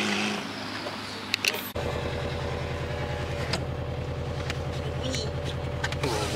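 Subaru BRZ fitted with an HKS supercharger kit, heard from on board while driving: a steady, loud low engine drone with a harmonic hum that holds throughout, after a brief rustle and thumps at the start.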